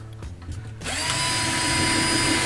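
A power drill drives screws into a plywood base framework, built like a ladder chassis, for a DIY camper van; after a short quiet start, the motor spins up and whirs continuously and loudly.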